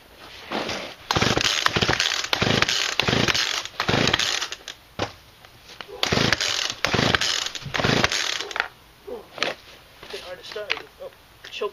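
A Poulan chainsaw is cold-started with repeated rough pull-cord rips and brief sputtering catches, then the engine fires and runs unevenly, loud and close, with someone talking between pulls.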